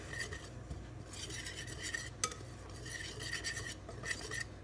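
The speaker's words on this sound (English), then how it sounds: "I'm just going to whisk it up a little bit" Whisk scraping and tinkling against a bowl of oat flour in quick, uneven bursts of metallic stirring, close and fairly quiet, with short pauses between strokes.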